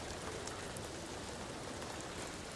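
Steady rain falls in Ghost of Tsushima, a dense, even hiss of drops spread across the whole stretch, fairly faint and unbroken.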